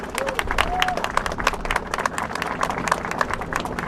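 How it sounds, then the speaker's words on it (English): A crowd claps in steady, scattered applause that carries on throughout, with some voices mixed in, at a pier re-opening ceremony in Ocean City. "give him a round of applause and give them a round of applause."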